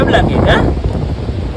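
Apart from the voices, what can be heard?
wind blowing at a lighthouse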